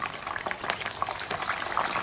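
Chicken legs sizzle and crackle steadily in hot oil in a pan, a close, even frying hiss with small pops throughout and no voices.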